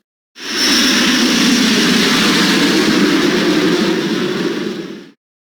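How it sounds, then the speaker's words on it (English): An airplane gives a steady, loud, broad roar that holds evenly for several seconds before cutting off. "airplane"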